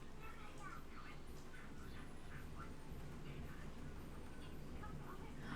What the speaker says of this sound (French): Les oies, qu'est-ce qu'elles sont drôles.